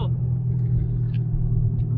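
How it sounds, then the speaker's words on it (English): A Chevrolet Corvette C6 with a manual gearbox idles or cruises with a steady low engine rumble that stays close and even throughout, with faint cabin sounds on top. "We are in a C6 Corvette manual gearbox, as you will hear in a moment."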